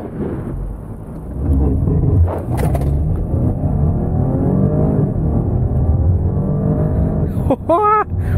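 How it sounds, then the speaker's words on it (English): A 2020 Porsche Cayenne in sport mode launches hard in a full-throttle pull, its engine roaring loudly and rising steadily in pitch through the gears, with a sharp upshift surge near the end. "before we do the pull test, let's go ahead and put it in sport mode"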